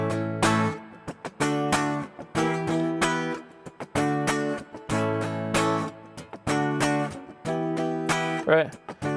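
Rhythmic strummed chord progression built on a one-four-five pattern in Mixolydian with a minor five chord, played in short repeated bursts with clear pauses between chord groups.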